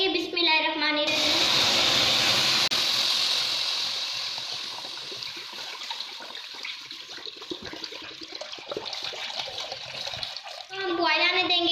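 Milk pours into a kadhai (wok) for mooli halwa, a loud, full, continuous gush that gradually softens, with a voice talking just before and after.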